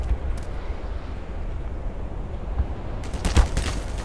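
Gunfire in the video game Black Mesa Source, during the Surface Tension chapter: a steady rumbling battle din with a few sharp shots cracking out near the end, loud and without talk.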